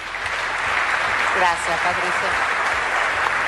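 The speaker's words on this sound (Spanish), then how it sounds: "fue despedida con un fuerte aplauso" Strong applause for Patricia Bullrich, a steady broadband clatter of clapping that runs throughout while a voice speaks over it.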